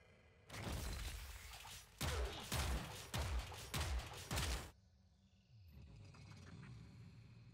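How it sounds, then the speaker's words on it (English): Mirlock semi-automatic pistol in Warframe firing one sustained burst, then four or five heavy shots in a steady rhythm, each loud and close with a short crackling tail, followed by quieter ambient game noise. "Mirlock. A status-based pistol with glorious animation."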